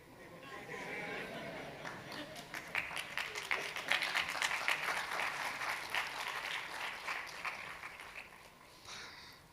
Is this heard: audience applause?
yes